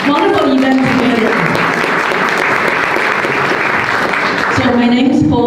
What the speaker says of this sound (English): let's give a round of applause to all the organizers for putting such a wonderful event together